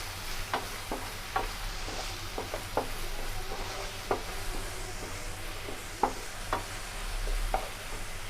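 Ginger garlic paste stirred into a fish curry frying in a pan, a soft continuous sizzle with repeated scraping spoon strokes against the vessel, close and fairly quiet.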